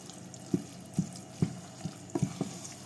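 Pasta being stirred in a pan into a creamy sauce, with about seven soft, wet scraping strokes spread at an uneven pace over a faint background hiss.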